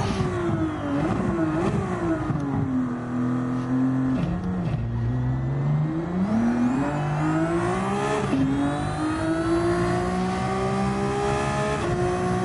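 Race car in the video game Gran Turismo 7, its engine revving hard through gear changes, pitch climbing and dropping under braking and acceleration, loud and continuous with a brief tire squeal.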